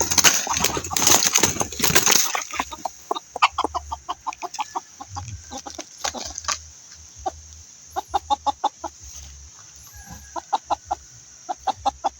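A young chicken that has just been caught clucks in short, sharp, rhythmic bursts close by. The loud early flurry settles into steady, evenly spaced clucks that carry on for the rest of the stretch.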